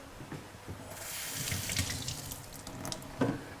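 Tap water runs steadily into a kitchen sink as a halved fennel bulb is rinsed, a continuous splashing rush with a few drips and a brief clunk near the end, no voices.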